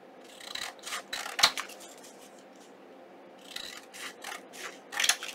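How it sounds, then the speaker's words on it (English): Scissors snipping through paper while trimming pieces for an envelope fold-out junk journal, a few quick close cuts in short bursts with pauses between. "I'm just trimming this out"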